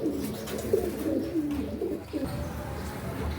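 Pigeons coo at their loft nest, a pair that has just laid eggs, with repeated low throaty coos rolling on close by over faint background noise.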